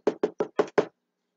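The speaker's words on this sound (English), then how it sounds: "the bridegroom knocks on the door" Five quick, evenly spaced knocks on a door, close and sharp, with silence after.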